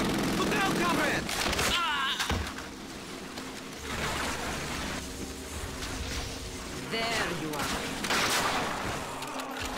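MG42 machine gun firing in Call of Duty Finest Hour, a World War II shooter, with sustained loud bursts of rapid fire mixed with battlefield noise and in-game voices throughout.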